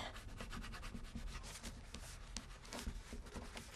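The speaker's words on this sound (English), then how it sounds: "I'm just going to press those down so that they're nice and flat and crisp" A score tool presses and rubs folded paper card flat, giving a close, quiet scraping and rubbing texture with soft repeated strokes and no talking.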